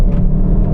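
A Hyundai i30N accelerates hard with wheelspin, giving a brief, loud, close engine rumble dominated by deep low tones.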